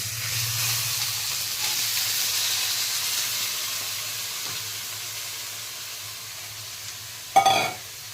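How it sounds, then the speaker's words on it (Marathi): Carrots sauté in ghee in a kadai for carrot halwa, a steady close sizzle that slowly fades, broken near the end by one brief utensil clatter. "हे गाजर टाकून घेऊया आणि गाजर परतून घ्यायचं तुपामध्ये"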